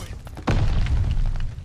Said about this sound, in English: Hit one with the nade.